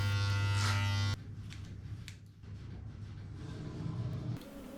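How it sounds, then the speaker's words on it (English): Electric hair clippers buzz steadily and close by as they trim hair, loud for the first second and then softer and rougher with small changes in load. No voices. "Just doing my final touch with the clippers, just to even out any inconsistency in the hair."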